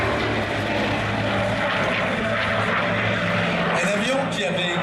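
Hawker Sea Fury propeller fighter flying at the La Ferté-Alais airshow in 2018: its piston engine gives a loud, steady, rumbling drone that fills the whole clip, and the tone shifts slightly near the end.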